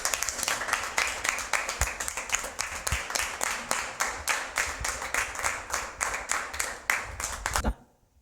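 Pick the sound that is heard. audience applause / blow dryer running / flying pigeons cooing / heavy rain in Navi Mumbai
audience applause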